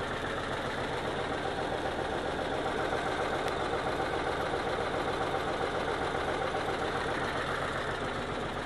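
A farm tractor barely idling with a crop sprayer attached while spraying beans, a steady low engine drone that stays level throughout, unbroken by talk.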